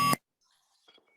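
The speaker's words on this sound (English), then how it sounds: "you will hear a beep sound" A single short, loud electronic beep sounds right at the start to mark the beginning of a recording for a PTE exam task, then stops abruptly and leaves near silence.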